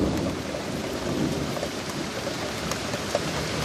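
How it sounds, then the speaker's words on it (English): Steady rain pours down with a dense hiss close by, and a low rumble of thunder rolls underneath. "rain's picking back up again"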